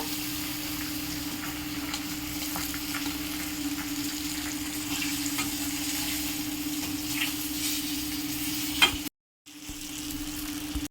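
Fish pieces frying in hot oil produce a steady, dense sizzle with faint stirring clicks, broken by a short sharp knock and a brief silence before the frying resumes.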